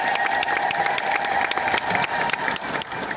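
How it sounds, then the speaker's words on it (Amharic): A congregation at an Orthodox Tewahedo sermon applauds together, a dense, steady wash of many hands clapping at once that fills the whole short stretch with some crowd noise mixed in. "አጨብጭቡ እናንተ በደንብ አድርጋችሁ።"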